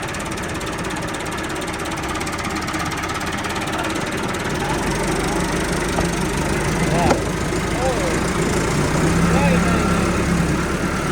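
A tractor engine runs steadily close by, a loud continuous throbbing rumble that swells slightly toward the end, with faint voices in the background.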